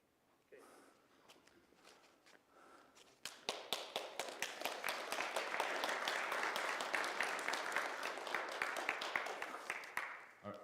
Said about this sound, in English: everybody applauded for you, so that means you passed the test